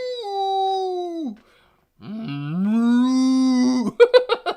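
A person imitates a cow's moo with the voice, giving two long sustained lowing calls with a gap between them, close and loud, followed by a few short choppy bursts.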